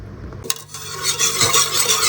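Sour yogurt being stirred into a sweet yogurt mixture in a bowl, a steady scraping and swishing of utensil against the container, close and continuous after a brief clink.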